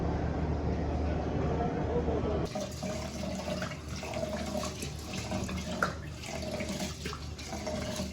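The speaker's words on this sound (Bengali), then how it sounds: "চাল ধুয়ে নিলাম, সব ধোয়া শেষ, আমি শেষ ধোয়াটা দিচ্ছি।" Rice being washed by hand in water in a home kitchen, a steady running, splashing wash that continues throughout with a softer stretch after the opening seconds.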